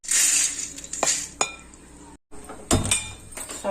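Fried sunflower seeds scraped from a pan onto another plate, with metal and dish clinks, a soft rattle of seeds and a faint sizzle, close by with no talking.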